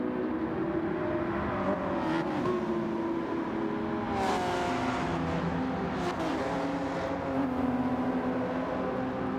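A Mazda RX-7 race car in Gran Turismo 7 drones steadily through a sustained engine note with shifting pitch, loud and continuous, with no talk.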